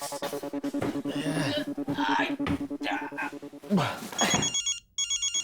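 A mobile phone rings on and off in a household sitcom scene. Its tone runs under steady talking and background noise, then pulses alone and clearly near the end.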